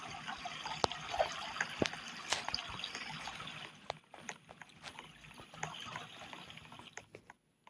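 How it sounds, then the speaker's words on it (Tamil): Faint running water in the video game Mega Mansion Tycoon trickles and splashes softly, with scattered small clicks and taps over the quiet flow. "தண்ணி சத்தம்"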